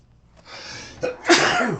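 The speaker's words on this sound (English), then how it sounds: "Man, another sneeze." A single loud human sneeze is heard up close: a short indrawn buildup followed by a sharp, explosive burst, with no talking over it.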